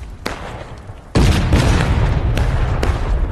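A Civil War artillery cannon fires in the multiplayer game War of Rights, a sudden deep, loud boom that rolls on as sustained rumble after a quieter stretch of distant battlefield noise.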